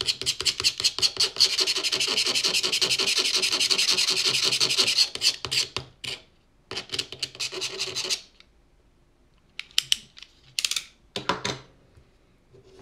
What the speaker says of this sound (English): Utility knife.